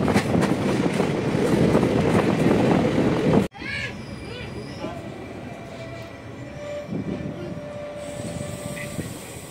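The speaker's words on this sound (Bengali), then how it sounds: "লিডো গুয়াহাটি ইন্টারসিটি এক্সপ্রেস ট্রেনটি লামডিং ডিব্রুগড় মেন লাইনকে ডান পাশে রেখে" The Ledo Guwahati Intercity Express runs along the New Tinsukia–Duliajan branch line in far eastern India, a loud close rumble for a few seconds, then an abrupt shift to a quieter, humming ride with faint tonal whines.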